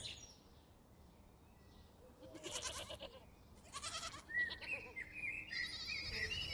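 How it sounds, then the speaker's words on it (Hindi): Goats bleating within a herd in the countryside, a few nasal calls rising over a soft outdoor bed with faint bird chirps, fairly close and moderately loud. "देख तो साला उस बकरे के कितने मजे हैं यार। इतनी सारी बकरियों के बीच कैसे बॉस की तरह चल रहा है।"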